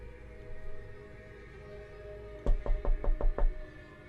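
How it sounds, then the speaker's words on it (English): Six quick, evenly spaced knocks rap on a door against a quiet room hum, close and sharp after a stretch of near silence. "someone's knocking at my door"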